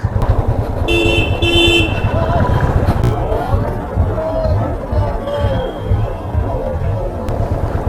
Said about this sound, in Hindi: ये बैक के वजह से हॉर्न यहाँ पे टच हो गया